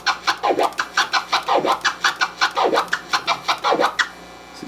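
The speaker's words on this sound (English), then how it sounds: "That's a flare and a chirp being alternated." Turntable scratching alternating flares and chirps, a steady, evenly spaced run of sweeping strokes, close and clear, with nothing else heard.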